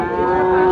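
A cow at a rural cattle bazaar gives one loud, close, sustained low moo that holds steady for the whole moment, with no talk over it.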